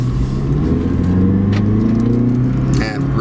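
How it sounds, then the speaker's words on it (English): A 2009 Chrysler PT Cruiser wagon's four-cylinder engine revs steadily as it accelerates from inside the cabin, a loud continuous drone with rising pitch and a brief faint sound near the end. "So the 4-cylinder doesn't exactly give you the most pleasing sound"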